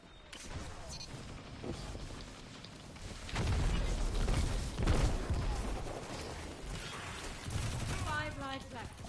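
Dense bursts of gunfire in the video game Trials 9 crackle and rattle continuously, with a louder stretch in the middle, under faint talk.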